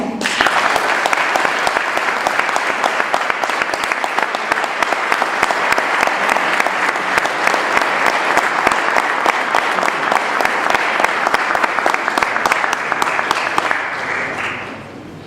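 Steady, loud audience applause welcoming brigadier Carlos Tomba at an event, dense clapping from a large crowd lasting about fifteen seconds before fading at the end.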